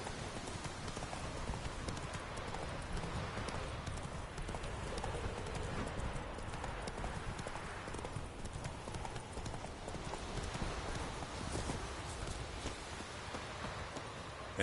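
Roach, Geralt's horse in The Witcher 3, trots with a dense, steady clip-clop of hooves that runs unbroken over a hissing, rain-like wash of background sound.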